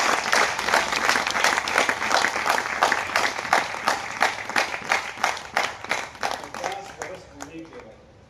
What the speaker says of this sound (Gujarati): બધા ગુરુઓને તાળીઓથી આપણે બોલાવવા